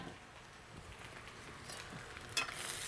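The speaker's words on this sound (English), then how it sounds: "Stir my spinach. Love sauteed spinach." Sautéed spinach being stirred in a pan, a quiet frying sizzle with soft scraping strokes of the utensil, one brighter clatter near the end.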